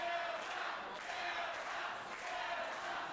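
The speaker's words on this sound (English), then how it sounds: "Crowd really behind Delta here." A wrestling crowd cheers for Delta, a faint, distant roar of many voices with rhythmic chant-like swells and occasional thuds, continuous throughout.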